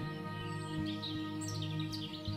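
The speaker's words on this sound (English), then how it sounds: "Can you hear the beautiful song of the birds?" Bright bird chirps and warbling trills rise over a steady droning musical backdrop with low rhythmic pulses, the birdsong moderately loud and continuous.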